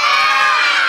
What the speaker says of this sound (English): Wow, we have an enthusiastic crowd.